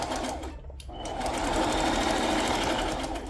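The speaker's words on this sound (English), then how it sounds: "just go down the middle with a zigzag stitch" A sewing machine runs a zigzag stitch in a steady, continuous mechanical whir that stays close and fairly loud, with a brief dip near the start.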